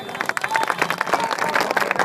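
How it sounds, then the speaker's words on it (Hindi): Rally audience clapping in dense, rapid bursts, loud and close, with voices and crowd noise mixed through the clapping. "अगर माफ करेंगे तो तालियां दीजिए जरा जोर से।"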